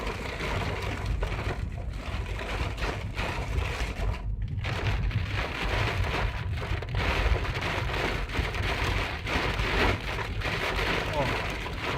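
Heavy rain pours steadily during a dark early-morning thunderstorm in Szadek, a dense continuous hiss with low rumbling underneath.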